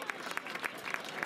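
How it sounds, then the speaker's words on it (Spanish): A small crowd at the finish line of the fourth Valle del Iregua foot race in Albelda de Iregua claps for José Luis Zúñiga, the third-place finisher, with loose, scattered hand claps that rise and fall in quick pulses. "Un aplauso fuerte para él."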